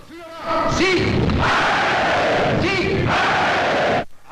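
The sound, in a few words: crowd applauding and cheering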